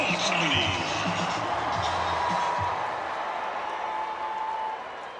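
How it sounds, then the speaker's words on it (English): Dense crowd noise fills Dodger Stadium as Shohei Ohtani steps in to bat during an Angels–Dodgers MLB game, a loud, steady roar with scattered cheers that eases slightly toward the end. "gets a good rise out of the crowd at Dodger Stadium"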